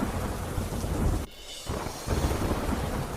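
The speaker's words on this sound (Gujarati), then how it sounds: "મુશળધાર વરસાદ ખાબક્યો" Torrential rain pounding down with deep rolls of thunder, a loud continuous roar that briefly drops away midway and then returns even heavier, with no voices present.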